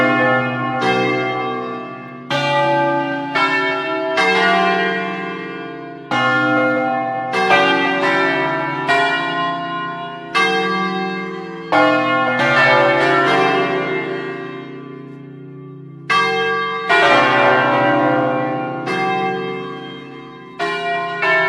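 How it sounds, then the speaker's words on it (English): Big church bells ring out loud and close in a slow, irregular sequence of heavy strikes, each leaving a long resonant decay that overlaps the next, with no voices. "It's just cool to see those big bells actually ringing"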